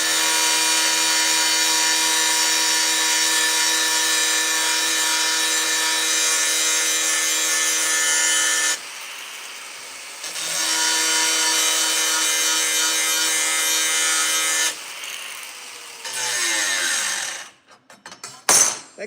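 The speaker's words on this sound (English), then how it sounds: "That cutoff wheel's glazed over. Let me get another cutoff wheel." A glazed cutoff wheel grinds through steel while fabricating an LS engine lift plate, a loud sustained whine with two brief dips, then stuttering off and spinning down near the end.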